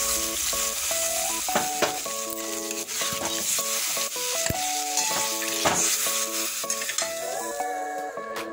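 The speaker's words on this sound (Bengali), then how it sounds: "আমি পাশাপাশি আলুর দমটা কিন্তু রান্না করে নিচ্ছি।" Aloo dum potatoes cook in a pan, with a continuous sizzle and repeated scraping and clinking of a metal spoon against the pan as they are stirred, close and clear.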